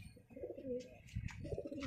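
Pigeons at a market sale cooing in soft, low, throaty phrases, a couple of rising and falling coos close by with light rustling between them.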